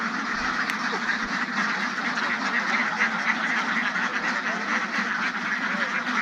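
Ducks quack repeatedly on a farm, a dense, overlapping chorus of nasal calls heard fairly close, with a faint voice in the background.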